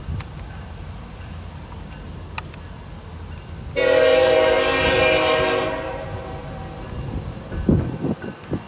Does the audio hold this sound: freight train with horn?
yes